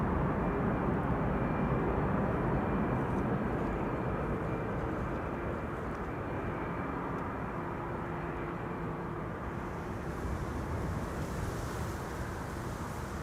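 An EasyJet Airbus A320neo arriving from London Gatwick on runway 06 at Amsterdam Schiphol gives a broad, steady engine roar that holds loud throughout, mixed with wind noise at the microphone.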